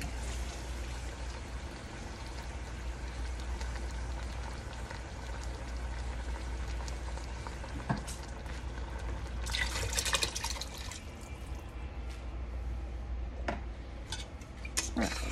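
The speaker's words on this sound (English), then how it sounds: "I'm going to fill this up with water, and I'm going to pour that in there also" Water runs steadily into a pot of vegetable beef soup, a continuous rushing pour with a few clinks and splashes near the end.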